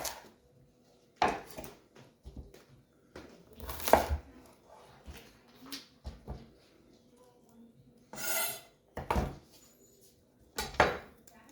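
A knife dicing an onion on a cutting board for lasagna, heard as scattered sharp chops and knocks with quiet gaps between them, close and moderately loud.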